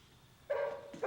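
A dog gives two short, fairly faint barks, the second following closely after the first, against a quiet background.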